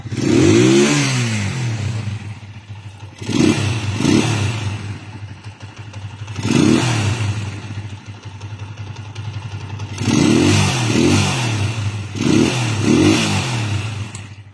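A rough, uneven old Platino-model motorcycle engine revving in repeated bursts, idling with a clattery rattle between throttle blips, close by and loud.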